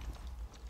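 Zebra horse hooves clopping in Far Cry 6, a steady low rhythmic drumming of galloping steps, close and moderately loud, with game sounds faintly around them.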